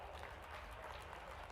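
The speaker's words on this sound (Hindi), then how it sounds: "आप ताली वाली बजाते जाओ।" Faint, steady audience clapping at a political rally held by a chief minister during a temple foundation ceremony, a dense wash of hands heard from a distance with no voices.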